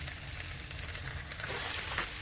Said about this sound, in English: Saute some onions and allow it to cook for how long?